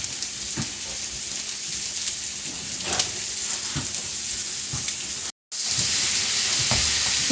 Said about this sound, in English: we got the 8 sausages in, and now we'll just sit here, and as it cooks, we'll try to break it up with a spoon